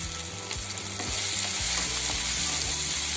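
Tomatoes sautéing for a chicken fry sizzle steadily with turmeric being stirred in, a spoon scraping the pan in repeated strokes, close and fairly loud with no talk.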